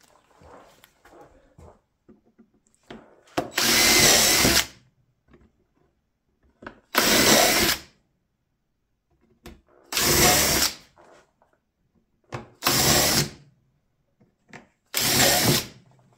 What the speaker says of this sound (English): I'm going to use my Amana countersink bit